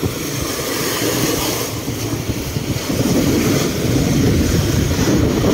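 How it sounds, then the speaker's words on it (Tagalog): Large ocean waves driven by the southwest monsoon pound a debris-strewn shoreline, producing a steady, loud, broadband roar of surf that swells noticeably heavier midway through, with no voices. "Grabe, lalaki ng alon, no?"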